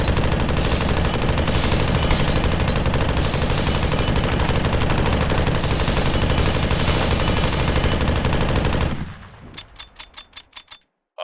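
A machine gun in the Pavlov VR shooter unleashes a long, loud, continuous burst for about nine seconds, then stutters into a few spaced final shots before falling quiet.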